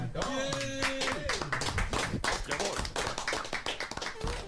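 Scattered applause and hand claps in an Age of Empires 3 session, a brief uneven patter of clapping with voices talking over it.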